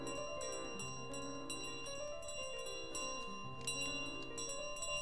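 A bell chimes in Untitled Goose Game, with repeated bright metallic strikes and ringing tones that layer over a soft descending melodic tune, steady and moderately quiet with no talk.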